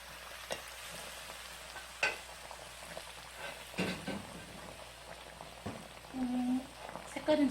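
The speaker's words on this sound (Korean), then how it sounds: "달궈진 그릇에다가 아주 뜨거운 소스를 부으면 싹 스며드는 소리가 멋진데요" Very hot sauce poured into a heated bowl of freshly fried rice crust, giving a soft, steady sizzle and crackle of liquid soaking in, with a few clinks and faint background voices.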